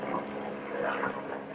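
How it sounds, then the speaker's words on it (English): A steady, low mechanical drone with a constant rumble fills the whole moment, a helicopter passing overhead, fairly loud and unbroken. "I think that's a helicopter."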